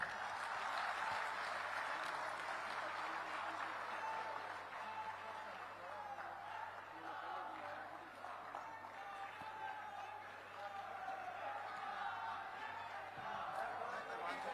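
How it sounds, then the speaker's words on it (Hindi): Audience applause at a government ceremony in Hamirpur, Himachal Pradesh, a steady broadband wash of clapping running the whole stretch at moderate level, with a faint low hum underneath. "आप लोग तालियां बजा सकते हैं।"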